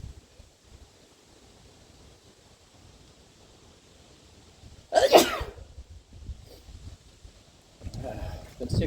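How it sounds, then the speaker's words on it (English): A single sharp, close sneeze bursts out midway through a quiet outdoor stretch, followed by a softer breathy sound and light rustling. "I gotta sneeze again."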